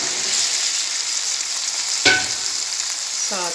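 Browned onions and vegetables fry in a pan with a loud continuous sizzle, broken by a sharp clatter as something lands in the pan, then a brief clink near the end.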